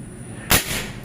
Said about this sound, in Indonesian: tembakan pertama di 3 track